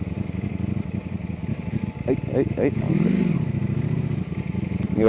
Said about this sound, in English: I don't know if you guys are able to hear the exhaust note, but engine note, exhaust note, it's got a lot of notes.